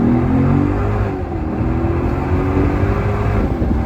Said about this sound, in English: I tried to spin the tires, but I felt the engine hit the hood again